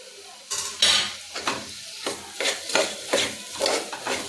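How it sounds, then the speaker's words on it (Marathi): Ground masala is stirred into chana dal and tomatoes in a pan, with a series of close, rhythmic scraping and clattering strokes over a soft sizzle. "वाटण चांगलं मिक्स करून घ्यायचं."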